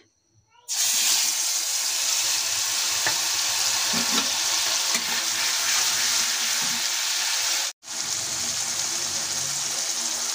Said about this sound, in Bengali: তেলটা গরম হয়ে গেছে, এখন আমি দিয়ে দেব কাঁচা লঙ্কা আর সর্ষে বাটা পেস্ট